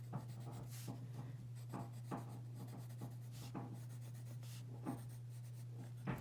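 A pen lightly sketching a parabola on paper while graphing a quadratic function, producing soft, close scratching strokes in an irregular rhythm, fairly faint, with no talking.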